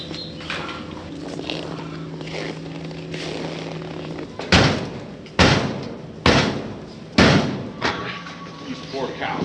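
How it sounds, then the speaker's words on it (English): An iced-up sliding door on a livestock trailer, frozen in bitter farm cold, is forced open: after quieter rustling come four or five loud, heavy banging thuds in quick succession, close by. "Is the trailer iced up? The door won't slide."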